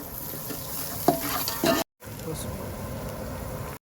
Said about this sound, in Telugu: పుదీనా, కరివేపాకు పచ్చివాసన పోతాకి ఫ్లేవర్ యాడ్ అవుతాకి మిక్సింగ్ చేసుకుంటాం